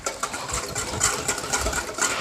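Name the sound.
whisking eggs for egg wash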